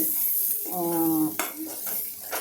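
Tempering (phodni) crackles in hot oil for Vidarbha-style dal with brinjal, a steady close sizzle broken by stirring scrapes of a spoon against the pan, with a tonal ring partway through.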